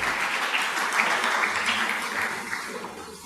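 A church congregation applauding together, a dense sustained wash of clapping from many hands that holds steady and tapers slightly at the end.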